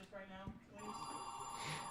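A telephone rings in a live telethon studio, a steady electronic ringing tone that sets in partway through and carries on to the end, with voices talking in the room around it.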